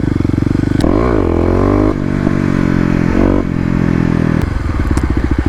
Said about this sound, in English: Let's see if we can't get one more rolling wheel spin, burnout, whatever you want to call it.